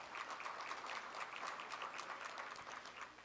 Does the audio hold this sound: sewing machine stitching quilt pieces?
no